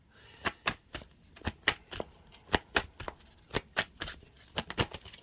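Tarot cards being shuffled by hand, a series of about twenty crisp riffling bursts in irregular rhythm, close and fairly quiet with no talking.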